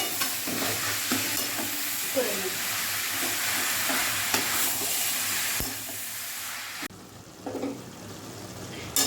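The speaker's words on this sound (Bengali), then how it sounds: "ভালোভাবে নাড়াচাড়া করে" A spatula turns bottle gourd and prawn curry in a pan over a constant loud sizzle, with repeated scraping stirs and knocks; near the end the hiss drops and a few clatters follow.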